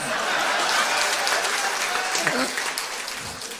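Crowd applause rolls on continuously, a thick wash of many hands clapping, with murmured voices and a chuckle mixed in as it tapers near the end.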